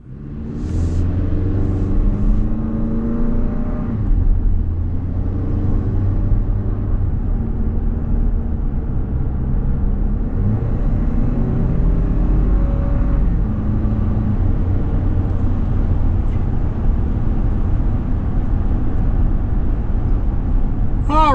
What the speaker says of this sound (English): we're out on the road in this 26 Highlander XLE all-wheel drive